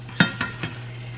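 Food frying in a pan over medium heat, a steady sizzle with three soft scraping or stirring knocks spaced a fraction of a second apart, fairly close and moderately loud.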